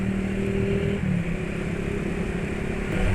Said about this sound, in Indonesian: getaran mesin terasa, sampai ya RPM mesin sangat cepat turun